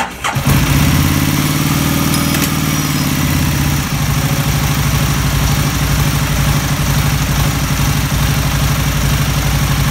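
A starter motor cranks a vehicle engine with the relay terminals bridged directly by wire, producing a loud, continuous whirring drone that stays close and steady for the full length, with a brief click at the start.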